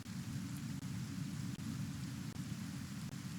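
Rain and thunder in the video game Kenshi, a steady dense hiss of rainfall with a low rumbling bed and faint periodic ticks, continuous and even throughout.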